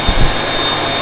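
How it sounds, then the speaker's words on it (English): A Bobrick hand dryer roars loudly and steadily at close range, a broad rushing blast of air with a faint whine, running continuously throughout. "It's a Bobrick hand dryer."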